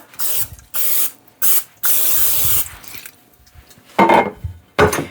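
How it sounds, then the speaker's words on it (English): Several short bursts of nonstick cooking spray hiss close by onto a pan, separated by pauses, with a faint clink of the pan between them. "or spray it with nonstick."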